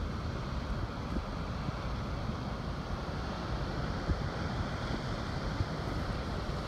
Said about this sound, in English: That's the Kerr Scott Reservoir Dam right there. And this is the spillway.